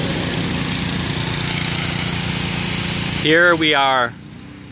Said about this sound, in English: pressure washing a house before we scrape, sand, prime, and paint it and refinish it properly